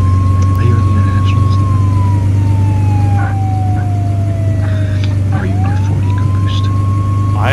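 An ambulance siren wails in the video game Flashing Lights, a loud steady tone sweeping slowly down and back up over a constant engine drone.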